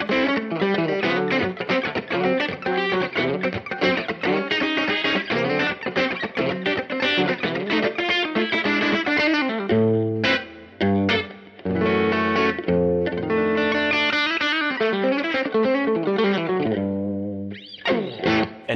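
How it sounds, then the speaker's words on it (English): An electric guitar through a Nobels ODR Mini overdrive pedal set at 12 o'clock plays a steady run of chords with a gritty, crunchy tone, loud and continuous, pausing briefly before resuming. "Halfway through, at 12 o'clock, you get a nice crunch sound."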